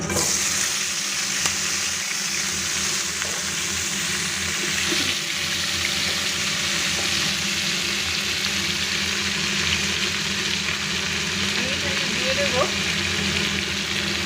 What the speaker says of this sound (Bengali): এটা পুরো লাল করে আমি একটু ফুলকপি এবং আলুটা ভেজে নেব